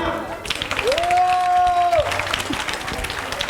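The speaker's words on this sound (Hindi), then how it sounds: "जोरदार तालियां" Audience clapping at an outdoor Ramlila stage performance in Paschim Vihar Extension, a steady crowd patter running throughout, with a sustained whistle-like tone rising over it for about a second.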